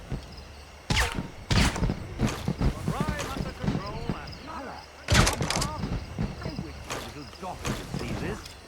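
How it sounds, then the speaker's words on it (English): In the video game Assassin's Creed Rogue, fireworks go off as a run of sharp bangs and pops with crackling bursts, while people talk and chatter continues under and between the explosions. "Those fireworks are truly impressive, I must say."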